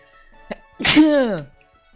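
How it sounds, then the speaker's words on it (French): A single sharp sneeze, close and loud, preceded by a quick breathy intake, with a voiced trailing end. "Je vais éternuer."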